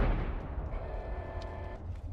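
Grenade blast in Abiotic Factor, a booming explosion at the start that fades into a rumbling tail with faint tonal ringing over about two seconds.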